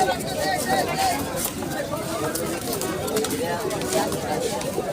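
Pigeons coo softly throughout a busy pigeon market in Fatullah, Narayanganj, half-buried under close, steady talk and crowd babble.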